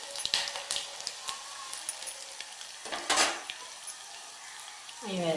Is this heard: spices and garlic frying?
yes